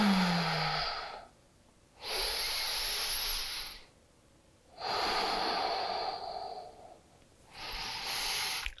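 Slow yoga breathing during a flow practice: three long, airy inhales and exhales through the nose, each lasting a couple of seconds and separated by quiet pauses, close and clear with no talking.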